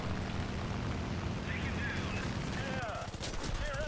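Rapid machine gun fire from a bomber's bottom gunner position in War Thunder chatters in a dense, loud burst, fading toward the end as an engine drone and brief tonal sounds come through.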